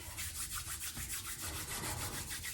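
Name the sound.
hands rubbed together to warm them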